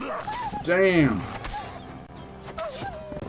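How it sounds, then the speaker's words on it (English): A dog in the video game Kingdom Come Deliverance 2 gives one loud, close, rising-and-falling yelp after being accidentally struck, with a voice speaking around it. "I think I accidentally hit my dog."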